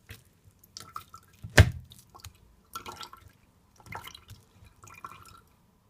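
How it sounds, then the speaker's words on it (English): Carrot juice pressed through a strainer with a spoon drips and splashes into a bowl below, with one sharp louder splat followed by several softer wet clusters of dribbling, close and quiet, with no talking. "just press it down so the juice come right through"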